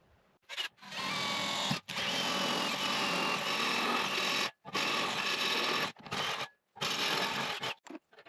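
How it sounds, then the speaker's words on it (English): Power drill boring a hole for electrical conduit in a woodshop, whirring in several close, loud bursts of a few seconds each, with short stops between them. "So I'll be starting right here by drilling a hole."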